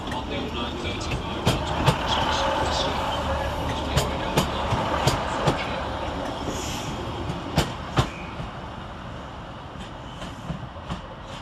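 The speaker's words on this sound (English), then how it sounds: "Arriving to terminate with a Northern Rail service off of Chester is 156425" A Northern Rail Class 156 diesel multiple unit arrives to terminate at Manchester Piccadilly station, a steady rumble of rolling wheels with irregular clicks and clacks over rail joints, heard close with a voice audible in the background.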